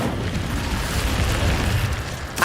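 An Incendio fire spell burst in the Hogwarts Legacy video game, a loud continuous roaring, rumbling blast of flame lasting a couple of seconds, ending with a sharp bright crack.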